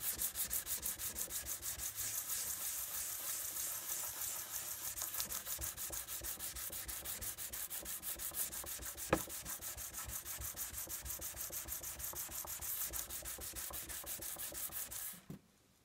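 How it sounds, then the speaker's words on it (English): Rhythmic hand sanding of a shellac finish on an antique tea cart, quick back-and-forth strokes rasping steadily and close for about fifteen seconds before stopping abruptly. "Once I think I've sanded enough"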